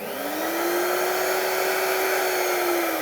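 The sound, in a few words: museum vacuum cleaner switched on at high suction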